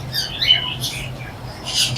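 Parrots and cockatiels at a bird market shop in Multan, Pakistan, give bright overlapping squawks and chirps at moderate distance, steady through the clip over a low background hum.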